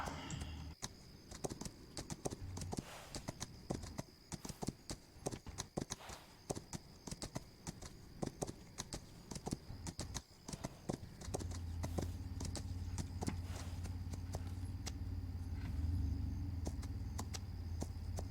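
Horse hooves clip-clop in the video game This Land is My Land, in a brisk, irregular rhythm, then give way to a low rumbling ambience; no voices are heard.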